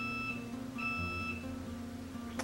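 Phone alert beeping to flag a high glucose reading, a bright electronic tone sounding in a few short bursts over steady room hum, with no talking.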